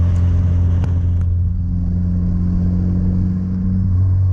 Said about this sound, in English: The first gear whine, the exhaust note, the blow up, the turbo spool, everything is so awesome